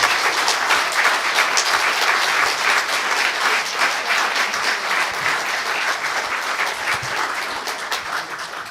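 Delegates at a general assembly session giving a round of applause, many hands clapping in a dense, sustained burst that slowly tapers toward the end.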